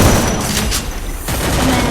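Rapid bursts of gunfire from the battle royale video game Free Fire during a ranked match, dense loud shots crackling continuously through most of the stretch with a brief lull in the middle.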